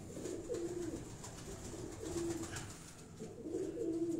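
Pigeons cooing close by in repeated throaty, warbling phrases, with quiet background noise between calls.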